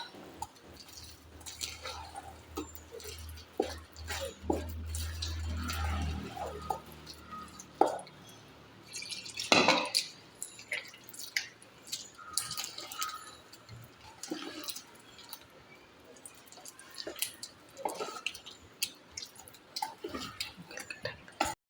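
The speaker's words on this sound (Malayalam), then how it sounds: "വെള്ളം ഒന്നും കൂടി ഒഴിച്ച് ചെറിയ നല്ല ദോശൻ്റെ പരുവത്തിലാകുന്നവരെ ഒന്ന് കലക്കിയെടുക്കാം" A spoon stirs water into thick batter in a bowl until it reaches a dosa-like consistency, making wet squelching, sloshing and dripping sounds in irregular bursts with quiet gaps between them.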